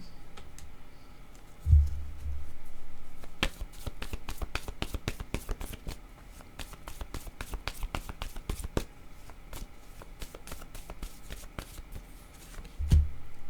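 Word cards in a tarot-style deck are shuffled in a long run of quick, crisp riffling clicks, close and clear, with soft thumps from the deck being handled at the start and end.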